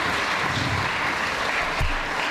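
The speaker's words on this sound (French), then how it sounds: "Je pense qu'on peut applaudir très fort." Audience applause at a talent show with a magic and mentalism act, with dense, loud clapping from a crowd that stays even throughout and has a brief thump near the end.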